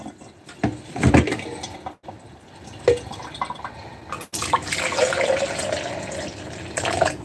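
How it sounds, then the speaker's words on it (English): Hot coffee poured into a cup: an uneven liquid splash and trickle with a few dull knocks and clunks around it, fairly close, with no voices. "Pour me another cup of coffee."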